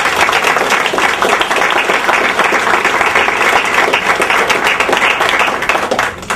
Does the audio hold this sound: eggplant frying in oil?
no